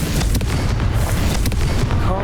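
Confringo spell explosion in Hogwarts Legacy, a dense, loud, continuous booming roar with crackling bursts filling the whole moment, close and overpowering.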